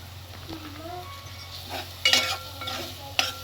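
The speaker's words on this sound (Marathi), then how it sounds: "याला चांगलं परतून घेऊया." Masala paste with turmeric and garam masala is stirred in a pan, giving soft sizzling and frying under a steady low hum, with a few sharp scrapes and clinks of a spoon against the pot.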